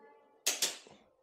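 A torque wrench set to 13 Nm gives two sharp, close clicks in quick succession while tightening a spark plug on a Kawasaki Z800 motorcycle, with a quiet background before and after.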